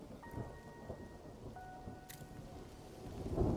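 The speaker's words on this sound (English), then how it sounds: "There's the rain." Rain and thunder in the video game Mind over Magic: a steady soft hiss of rainfall with a low rumbling swell building near the end, plus faint tonal chimes from the game.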